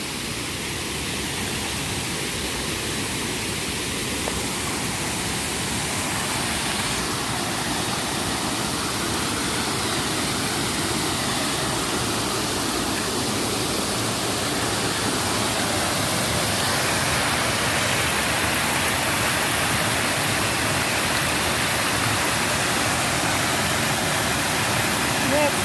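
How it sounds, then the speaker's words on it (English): Steady, loud rush of water pouring from the side of a canal lock, churning without pause, a broad continuous roar close by with no break or change in intensity. "there's the water coming out the side of the lock"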